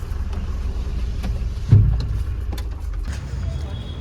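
A car pulls over to the roadside and stops near a workshop, giving a steady low engine rumble with a brief louder thump partway through and faint voices in the background.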